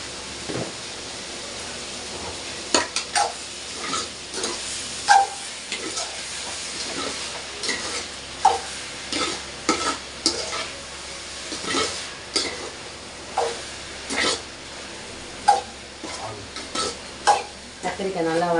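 Eggplant (brinjal) sautéed with salt in a home kitchen pan, a spatula scraping and stirring in irregular bursts over a soft, steady sizzle, close and moderately quiet.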